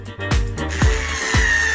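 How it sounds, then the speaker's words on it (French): A power drill bores through boards in quick bursts, three short whining spin-ups with falling pitch, close and fairly loud, with no talking over them. "Je vais tout percer."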